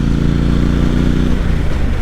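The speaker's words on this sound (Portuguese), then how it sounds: "olha como é que esse motor anda" A Triumph Bonneville T120 Black's 1,200 cc high-torque engine drones steadily and loudly, its low, throbbing rumble rising slightly as it pulls forward.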